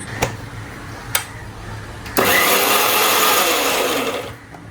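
A kitchen mixer grinder starts up loud and close after a few sharp knocks, whirring steadily for about two seconds before cutting off.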